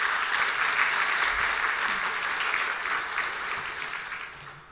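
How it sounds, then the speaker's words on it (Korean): Church congregation applauding a newly registered member during a Sunday evening worship service, steady dense clapping from a full room that holds for several seconds before slowly thinning. "예, 박수 한번 하십시다."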